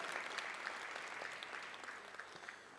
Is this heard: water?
no